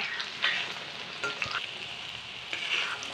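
Shallots sizzle steadily in hot oil, a close, continuous frying hiss with a few brief pops and flares.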